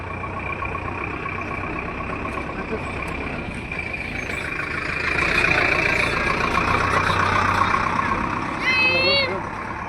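A bus rumbles past on a potholed road, its mid-pitched engine swelling louder midway as it draws near, under steady talk, with a brief squeal near the end.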